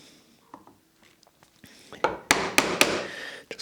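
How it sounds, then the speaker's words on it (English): A chisel is tapped with a mallet to cut a dovetail in cherry wood, starting with faint handling noises and then delivering several sharp, close knocks in quick succession. "I'm going to be using the chisel to cut this out, so that's why I started with a nice deep marking line."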